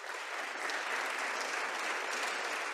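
Applause for three panelists at the close of a French-language round-table discussion, a soft, even patter of clapping from a seated audience, somewhat distant and quiet, continuing steadily throughout.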